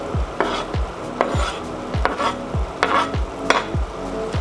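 Spinach and roasted tomatoes stirred in a pan, with regular rhythmic stirring strokes about twice a second over a soft sizzle, close and clear with no talk.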